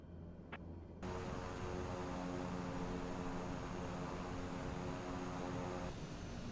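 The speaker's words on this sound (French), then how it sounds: "Taxiing to General Aviation Parking" Aircraft engine drones steadily at close range while a plane taxis to general aviation parking, a constant broadband roar with no speech.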